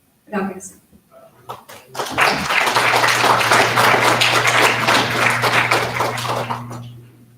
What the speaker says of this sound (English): How about another round of applause for Red Dawn here?